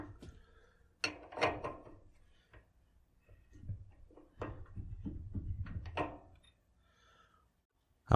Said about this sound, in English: I'll get this piece of precision steel rod chucked in order to measure the run out